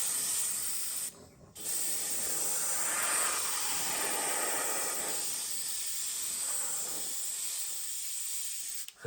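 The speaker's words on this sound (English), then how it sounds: "It's slowing down because I've had to turn my compressor off, so sorry about the noise." An airbrush driven by a compressor sprays weathering paint in a continuous close hiss lasting several seconds, with one brief break early on, then tapers slightly toward the end.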